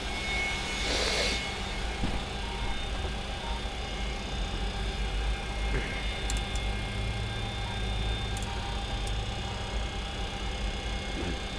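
Inside the cockpit of a 1976 DC-9 jet, the engines hold a steady loud drone with a constant whine over deep rumble, accompanied by faint intermittent clicks and ticks.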